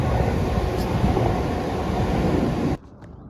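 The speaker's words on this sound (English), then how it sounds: "coming over the viaduct next to Marple Aqueduct now is the return Rose Hill with 156404." A class 156 diesel train crosses a viaduct beside Marple Aqueduct, a loud continuous rumbling roar with wind buffeting that cuts off abruptly near the end, with no talk.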